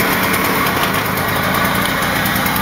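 Peugeot BB1 CT moped engine idling just after starting: a loud, close, steady buzzing putter with an even rhythm, alone without talk.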